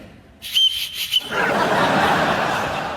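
A survival whistle sounds in a few short, shrill blasts, loud and close, then gives way to a steady broadband rush of noise.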